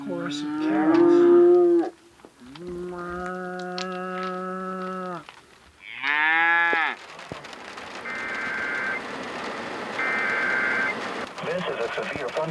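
Cattle moo in a chorus of long, loud calls near the start, then fade as a radio-style electronic tone and crackly static take over.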